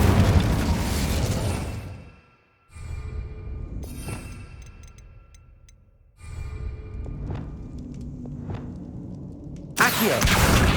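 The Incendio fire spell bursting in Hogwarts Legacy: several deep booming blasts with rumbling roars, broken by short gaps of near silence, loud and close.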